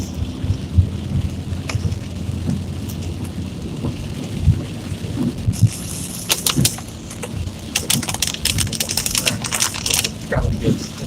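Heavy rain drums on a car during a commute, a steady close wash of patter with scattered sharper taps and splashes throughout.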